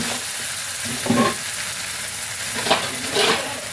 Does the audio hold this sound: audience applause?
no